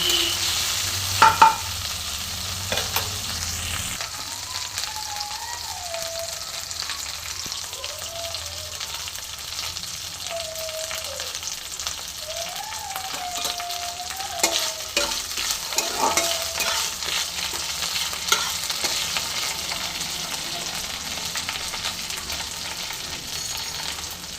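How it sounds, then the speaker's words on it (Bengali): Shiuli leaves frying in a pan, a steady sizzle under repeated stirring scrapes, with faint whistling tones in the background. "ভালো করে নেড়ে আমি পাতাটা বেশ সুন্দর করে ভেজে নেব যেন কাঁচা না থাকে"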